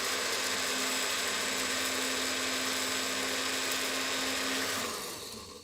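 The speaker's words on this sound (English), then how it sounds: "Okay, we're grinding." A kitchen grinder, used in place of a coffee grinder, whirs steadily as it grinds spices, a loud continuous motor whine that winds down near the end, no speech.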